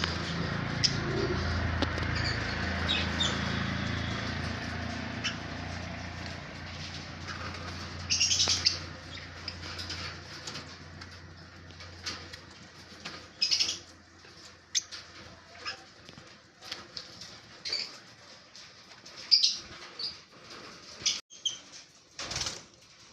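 Small pet birds, including lovebirds, pineapple conures and cockatiels, chirp and tweet in short, scattered bursts, with occasional wing flutters and rustling, close by and moderately loud.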